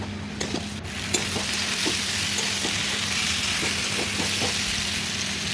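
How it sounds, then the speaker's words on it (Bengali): Onion, chopped tomato, salt, turmeric, green chilli, coriander, cumin and ginger paste fry in oil for a Bengali fish curry with papaya, a steady loud sizzle broken by regular scraping stirs of the spatula. "মশলা ভালোভাবে কষিয়ে নিচ্ছি"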